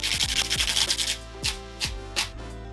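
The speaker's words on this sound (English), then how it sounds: "Start by almost julienning the shallot into these little sort of batons" Knife dicing a shallot finely on a cutting board after cutting it into thin batons for risotto: a run of rapid close scraping strokes, then three separate sharp chops spaced about half a second apart.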